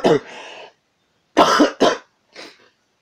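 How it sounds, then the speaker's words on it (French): A sick person coughs in several harsh bursts, a pair up front, then a double cough after a pause, and a weaker final one, close and clear. "je tousse comme malade"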